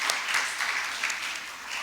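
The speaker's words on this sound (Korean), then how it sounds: "우리 한번 격려의 박수 한번 드립시다" A church congregation at a New Year thanksgiving service claps for the worship team, a soft, steady patter of applause that stays fairly distant and even for its short length.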